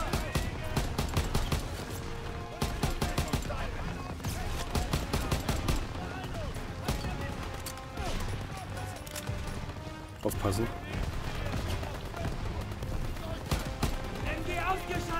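Rapid gunfire and machine-gun bursts crackle nonstop in the Call of Duty WW2 battle mission on PS4, loud sharp volleys layered with shots and explosions while someone speaks briefly over the fighting.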